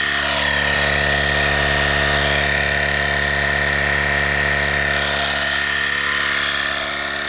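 A LASFIT AIR cordless portable air compressor runs continuously while inflating a tire, giving a loud, steady motor drone with a sharp, sustained high whine that holds level throughout, with no voices.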